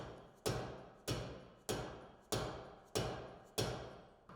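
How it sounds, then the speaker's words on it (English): A tool lightly taps the bearing carrier of a 2023 Polaris Ranger XP Kinetic to loosen the tie rod end. Six evenly spaced, close metallic knocks ring out with short decays. "Then, lightly tap on the bearing carrier to loosen the tie rod end."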